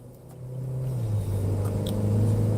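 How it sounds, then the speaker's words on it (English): A car accelerates on a cold day along Gratiot toward the I-94 merge. Its engine rumble climbs steadily in pitch and grows louder, heard from inside the cabin with no talking. "You hear the car accelerating."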